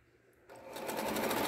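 A sewing machine runs a seam through fabric for a chicken-shaped door stopper, starting quietly and then settling into a steady, fast, close mechanical whir.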